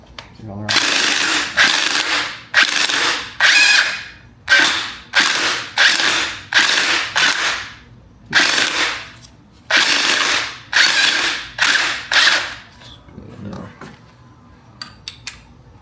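A ratchet spins off a nut during installation of lowering springs on a BMW X5M, giving repeated bursts of sharp rapid clicking in short strokes with brief pauses between, close and loud, followed by a few light metallic taps.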